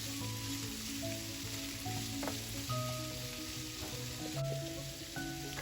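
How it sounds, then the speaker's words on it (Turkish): Onions frying in oil in a pan give a steady, even sizzle throughout, with faint stirring and a low background hum, and no voices. "Şimdi e, soğanlar kavrulurken biz domatesleri rendeleyelim."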